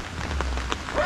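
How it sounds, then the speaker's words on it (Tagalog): Light rain patters steadily outside, a soft continuous hiss with a few faint taps and a low background hum. "Basta hindi po masyadong malakas yung ulan"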